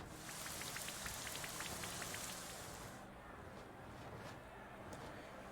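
Rain Dance move rain effect in a Pokémon video game battle: a steady hiss of falling rain with a bright sprinkle of drops early on that thins after a few seconds, faint and continuous.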